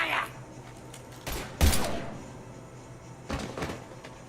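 Gunfire erupts in a Mass Effect video game battle, a few sharp bursts of shots spaced apart, fairly close and loud against a low background.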